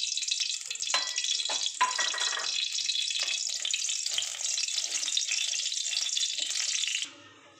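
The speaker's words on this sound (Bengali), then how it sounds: "এই কড়াইটা আমার গরম হয়ে গেছে, এবার আমি তেল দিয়ে দিলাম।" Oil sizzles and crackles steadily in a hot karahi while a potato filling is started, a continuous close frying hiss lasting about seven seconds before it cuts off abruptly.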